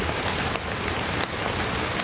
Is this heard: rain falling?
yes